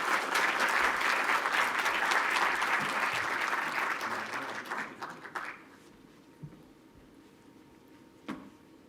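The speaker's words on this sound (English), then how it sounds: "A big round of applause for our speakers" Audience applause for the speakers at a housing panel talk, a full round of clapping that swells, then thins out and fades to scattered claps and a near-silent room.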